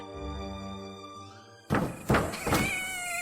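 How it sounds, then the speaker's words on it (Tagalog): A drawn-out cat yowl fades, then cats fighting at night on a roof break into sharp, loud screeches and snarling bursts, close and harsh. "Ingay ng mga pusa ah."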